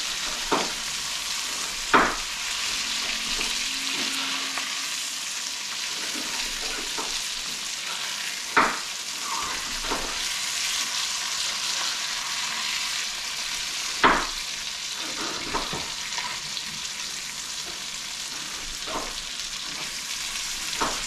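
Walleye fillets and fries frying in butter in a pan, giving a steady bright sizzle that runs the whole time with a few sharp louder pops and crackles.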